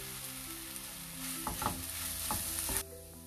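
Carrot with ginger garlic paste frying in a pan gives a continuous sizzle. Several distinct scraping stirs make the middle louder and busier, and the sound drops away abruptly at the end.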